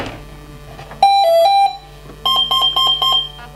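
An RC motor's electronic speed controller emits clear electronic beeps during throttle calibration: a short tonal melody, then three evenly spaced higher beeps, loud and close over a faint hum.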